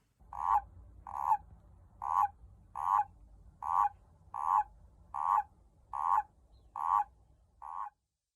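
A common toad calls in a steady series of about ten short, evenly spaced croaking pulses, close and clear over a low background rumble.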